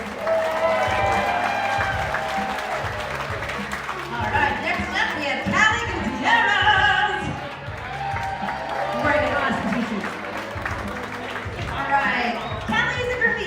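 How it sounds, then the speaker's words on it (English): Sustained audience applause fills the room for a local artist at a community event, a steady dense wash of clapping with some cheering and crowd chatter mixed in, loud and continuous throughout. "give Lou a big round of applause"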